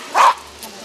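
A single loud, close bark from a year-old guide dog in training, outdoors with its handler, followed by a softer faint yip.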